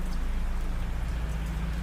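Steady, heavy rain pours at a railway station at night in a Bengali horror cartoon, a dense, unbroken downpour that holds loud and even throughout, with no voices.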